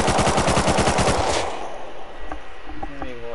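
Automatic rifle fire in the survival video game Rust rattles in a rapid, loud burst for about a second and a half, followed by a ringing tail, a few faint clicks and a voice at the end.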